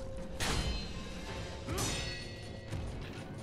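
Firecrackers going off in the video game Sekiro, with two or three sharp crackling bursts spaced about a second apart under faint game ambience, no speech.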